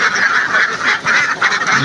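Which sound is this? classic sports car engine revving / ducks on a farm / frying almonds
ducks on a farm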